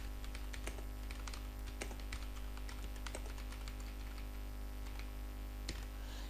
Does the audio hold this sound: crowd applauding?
no